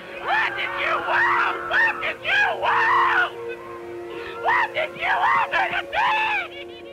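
A person screams in primal scream therapy, letting out anger into the floor. Repeated loud, raw, wavering yells come in two bursts with a short pause between them.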